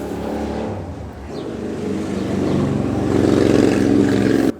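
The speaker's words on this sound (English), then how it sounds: "Sorry if you can hear traffic outside." Road traffic heard through an open window, a continuous rumble of passing vehicles that swells louder toward the end before cutting off abruptly, with no talk.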